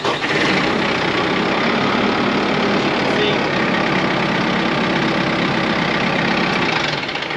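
A cold Kubota tractor diesel engine with glow plugs heated starts up and settles into a steady, loud, rough clatter that runs continuously throughout.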